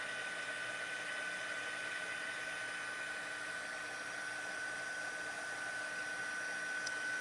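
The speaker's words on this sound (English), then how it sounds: "And then you can start to move your heat tool over to the other images." A handheld heat embossing tool blows hot air over stamped flower images, giving a steady, close whooshing hum with a thin whine that holds evenly throughout, with no talking.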